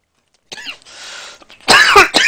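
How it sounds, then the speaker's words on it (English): A man coughs and clears his throat, a few raspy hacks close to the microphone followed by a louder, harsher coughing burst. "You're making me cough."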